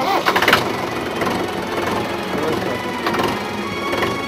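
A tractor engine chugs steadily with a rough, rattling mechanical throb, loud and close throughout, with a couple of brief sharper clatters near the start and again around three seconds.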